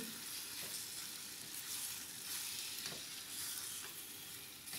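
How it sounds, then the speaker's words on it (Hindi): Chicken pieces frying in oil as a pizza topping, a dense, even crackling sizzle running without a break, close but low in level, with faint stirring knocks. "ये चिकन मैं इसमें डाल के थोड़ा सा इसे भून लूँगी"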